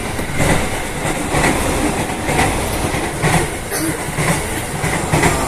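A commuter train rolls toward Manggarai station with a steady rumble and a rhythmic clickety-clack of wheels over rail joints, loud and close, with no talk.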